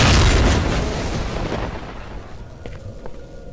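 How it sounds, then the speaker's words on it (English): A fuel barrel blows up in the video game STALKER with a loud, broad boom that rolls off into a decaying rumble over a few seconds. "Some people really dislike those fuel barrel explosions."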